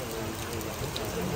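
Steady rain falling during an outdoor delivery run, a continuous dense hiss of drops with no clear pauses, fairly loud and close throughout.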